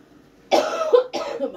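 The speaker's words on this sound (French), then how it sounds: "il faut pas que je tousse sur la bouffe quand même" Two quick coughs sound close by in a quiet kitchen while someone is cooking with water, butter, salt and sugar.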